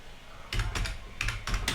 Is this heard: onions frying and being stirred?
no